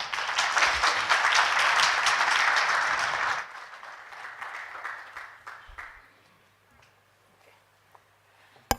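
A workshop audience applauds a speaker, loud dense clapping that stops abruptly after a few seconds, followed by a few scattered claps and quiet room noise.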